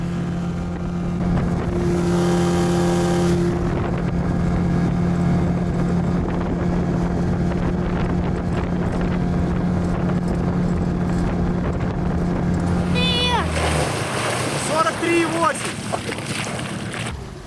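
A 9.9 hp outboard motor on a Flagman 350 boat drones steadily at close range, with wind buffeting the microphone, before the engine note shifts and water splashes near the end.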